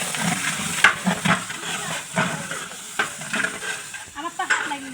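A large pot of precooked goat head meat being stirred for bhuna khichuri, a ladle scraping and knocking repeatedly over a steady sizzle, with a few loud clanks.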